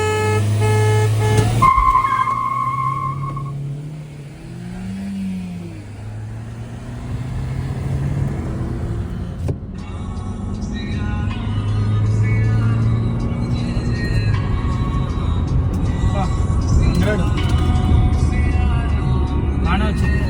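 A Honda City i-VTEC and a Hyundai Verna 1.6 CRDI launch in a drag race with rising engine revs and rumble that build and shift pitch as the cars pull away. The engines run loud throughout, with talking over them.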